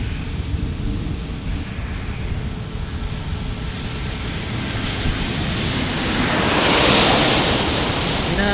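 A United Airlines airliner arrives at San Diego airport, its jet engine roar loud and steady over a wash of wind, swelling louder toward the end as it passes close.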